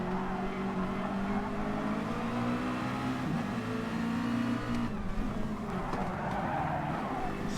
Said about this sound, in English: I like that downshift.